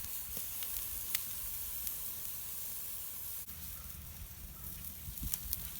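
A venison roast sizzles on a Weber kettle grill as it is flipped, a steady close hiss of frying meat with faint pops and crackles, one sharp click partway through.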